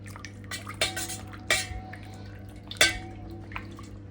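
A spoon clinks against a cup while stirring honey and lemon into homemade green tea with basil and mint, giving a few sharp close taps and scrapes over quiet kitchen hum.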